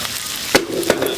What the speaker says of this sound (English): dropped my scraper.